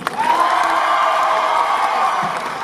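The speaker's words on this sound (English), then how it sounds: "Round of applause for Hulk." A large comic convention panel crowd applauds and cheers for Hulk, a dense, steady roar of clapping and whooping voices that holds loud throughout and eases slightly at the end.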